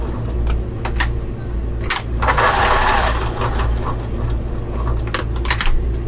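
A sewing machine stitches a convertible bag up close, a steady rapid mechanical hum and chatter with short pauses and bursts of rustling fabric handling, no talk.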